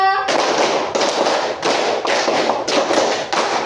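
A classroom group claps in unison in a repeated rhythmic pattern, with about seven loud, close bursts of massed hand clapping in steady succession and no talk over them.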